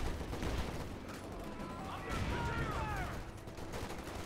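Machine gun fire in the World War II strategy game Company of Heroes 2, rapid rattling bursts mixed with distant battle noise in a busy, fairly quiet game soundscape.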